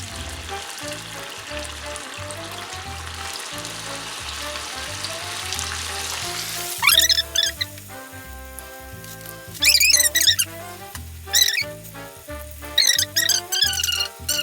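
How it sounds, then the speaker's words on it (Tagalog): Banana turon frying in hot oil: a steady dense sizzle, then louder crackling and spitting bursts as pieces hit the oil, close and continuous with no talking. "Eto na, prepritohin na natin ang ating banana turon."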